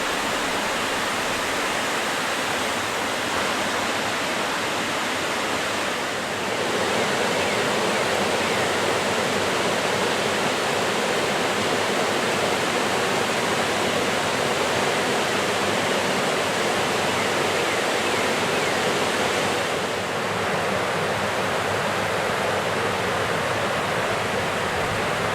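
Water rushes continuously over the old dam and rocky shoals of Lawson's Fork Creek at Glendale Shoals Preserve, a broad, even, hissing roar that holds steady throughout, close and loud with no voices.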